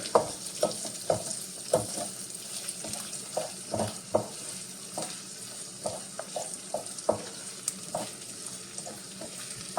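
Upma ingredients sautéed in a pan, a soft continuous frying hiss punctuated by repeated light scrapes and taps of a spoon, close and unaccompanied by voices.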